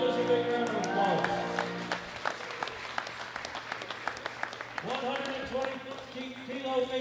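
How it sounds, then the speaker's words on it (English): An audience at the World Classic Powerlifting Championships applauds the lifters on the platform, dense crowd clapping rising and then thinning while an announcer talks over the hall. "Give all the lifters a big round of applause."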